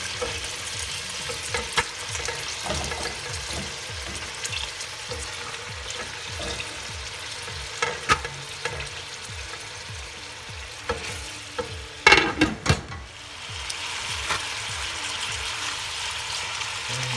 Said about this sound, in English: brown this meat again. You can see it's nice and hot.